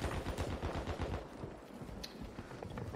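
Rapid automatic gunfire from the Call of Duty Warzone 3 video game, a fast continuous rattle of shots with no talk, fairly distant and steady.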